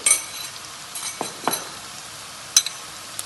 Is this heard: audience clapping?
no